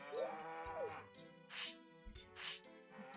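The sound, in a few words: cow mooing in the video game Harvest Moon 64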